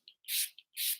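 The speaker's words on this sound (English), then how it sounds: "I have to spray some rose water" Two quick hissing pumps of a rose water spray bottle, each burst preceded by a small click of the nozzle, close and crisp in a quiet room.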